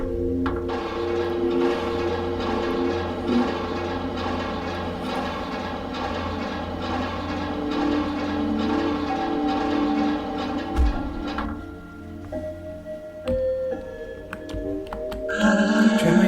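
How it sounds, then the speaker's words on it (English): A tram ride in the video game OFF, with a steady rumbling rail-car drone and a low hum running continuously and fairly loud, shifting tone near the end. "Tramway 1 is a very convenient way to travel between all the different regions of Zone 1."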